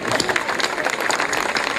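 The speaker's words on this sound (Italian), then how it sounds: "facciamo un applauso" A live audience at a 2010 music event in Acquarica del Capo applauds a sponsor, dense steady clapping and crowd noise filling the space without pause.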